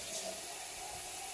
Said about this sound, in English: I'm rinsing out the colander and the sink